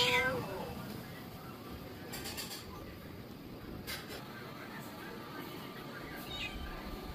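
A small cat meows once, briefly and in a rising then falling cry, right at the start, then gives way to steady background room noise with faint voices in a home.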